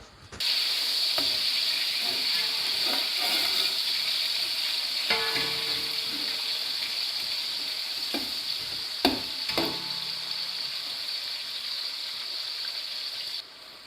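Onions and tomatoes for chicken pulao fry steadily in a pan, a constant bright sizzle punctuated by occasional scraping stirs and clinks.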